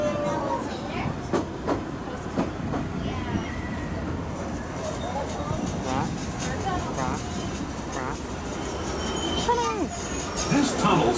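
The Disneyland Railroad train rolls through a tunnel with steady rumbling, clattering wheels and occasional squeals, and a recorded announcer speaks over the ride.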